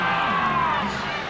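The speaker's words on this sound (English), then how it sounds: "Chant of defense from the crowd" Basketball arena crowd during an NBA Eastern Conference Finals game at The Palace of Auburn Hills, a loud, continuous mass of voices chanting and cheering throughout, close and dense with no gaps.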